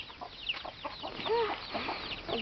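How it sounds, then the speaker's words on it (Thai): Farm chickens and chicks cluck and give short calls near the microphone, in several separate bursts with small pauses between them. "นี่อันนี้ไก่ อันนี้ไก่ครับไก่ลูกเียด้วย"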